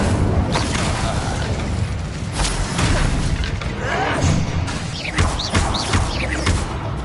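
Rapid fire-spell casts in Harry Potter: Hogwarts Legacy, a dense run of whooshing bursts, thuds and crackling impacts tumbling over one another during hectic combat.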